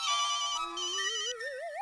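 A phone ringtone plays alone, a bright electronic melody of bell-like tones with a warbling rising line, clear and steady for a couple of seconds.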